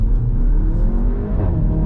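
Seat Cupra Ateca Limited Edition with an ABT-tuned 350 bhp 2-litre TSI engine and DSG gearbox launching from 4,000 rpm, a loud, close engine note climbing steadily in pitch over a deep rumble, with no voices.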